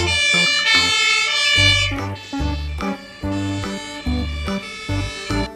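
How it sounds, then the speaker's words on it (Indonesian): A toy ladder fire truck plays its electronic fire engine siren, a loud, bright, warbling tone with a steady beeping, pulsing pattern underneath that repeats in short bursts, close by. "Wih, truk tangga pemadam kebakaran."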